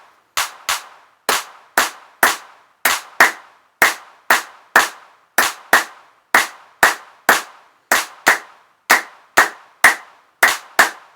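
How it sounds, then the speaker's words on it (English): Hands clap a 3-2 clave rhythm, crisp close claps in repeating groups of three and two, steady and loud over a full series of cycles with no talking. "Clap along with me."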